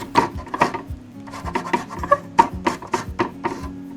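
A lime is zested on a kitchen grater in quick, irregular rasping strokes, close and crisp, about a dozen scrapes with short pauses between them and no talking.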